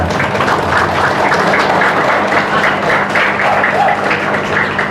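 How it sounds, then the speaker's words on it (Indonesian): Audience at an Islamic religious lecture on Isra' Mi'raj applauding together, a dense, steady wash of clapping that holds at an even, moderately loud level for several seconds. "Tepuk tangan sama-sama kami."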